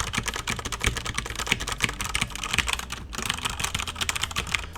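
Rapid, continuous clatter of typing on a Corsair K95 RGB Platinum mechanical keyboard, close-miked and fairly loud, with dense overlapping keystrokes and no speech.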